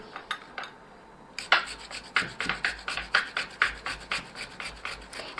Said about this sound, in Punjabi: ਇਹਨੂੰ ਆਪਾਂ ਗ੍ਰੇਟ ਕਰ ਲੈਣਾ ਚੰਗੀ ਤਰ੍ਹਾਂ